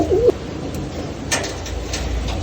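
Young pigeons in a cage giving a short, soft cooing call at the start, followed by faint rustling and small bumps in a quiet room.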